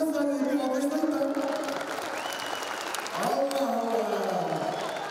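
Applause and crowd noise rise at a mass circumcision celebration, with people talking and calling out over the clapping.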